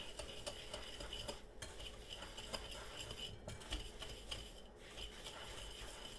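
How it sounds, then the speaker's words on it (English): Date bread batter with brown sugar stirred in a bowl: a steady scraping, rubbing churn of spoon against the bowl, close and continuous, with faint clinks and no talking. "we're just going to mix this real well to combine"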